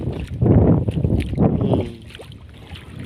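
Strong gusting sea wind buffets the microphone with a low, heavy roar, surging loudly for a couple of seconds before easing off slightly.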